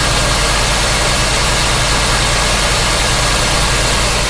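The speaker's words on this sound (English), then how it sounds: "this is a 305 throttle body fuel injected engine" A car's 305 throttle-body fuel-injected engine with about 120,000 miles idles in a loud, steady, low rumble that stays unbroken throughout and is heard close up with no talking.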